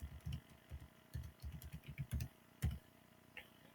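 Rapid bursts of typing on a computer keyboard, close and clear, with uneven clusters of key clicks and short pauses, no talking.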